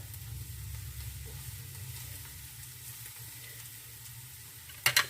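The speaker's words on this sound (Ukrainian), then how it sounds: "Нам потрібно, щоб хвилиночку воно просмажилося" Spiced mushroom sauce sizzles quietly in a pan, a soft steady crackle under low hum, ending with a couple of brief clattering knocks.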